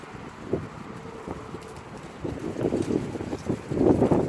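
Gusty wind buffets outdoors in uneven bursts, growing stronger toward the end, with faint rustling and scattered thumps beneath it.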